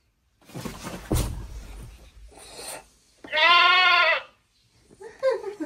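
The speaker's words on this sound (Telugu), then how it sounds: "మేకొచ్చిందా?" A goat bleats once in a loud, wavering call, surrounded by softer rustling and scraping noises before and after in an indoor home setting.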